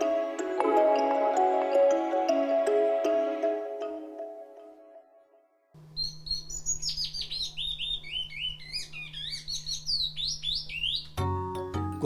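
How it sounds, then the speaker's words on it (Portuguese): A captive bicudo songbird, kept in a home aviary, sings after a short musical intro: bright whistled phrases and rapid rising and falling trills repeat clearly and close for several seconds. "falando de um dos pássaros mais elogiados do mercado e conhecido popularmente por bicudo"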